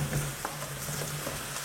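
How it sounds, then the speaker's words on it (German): Button mushrooms sizzling in a pan as they are added and pushed to the edge, a steady close frying hiss with a low hum and a few soft clicks of stirring. "Und da kommen jetzt vorsichtig Champignons rein, weil es kann spritzen, also vorsichtig."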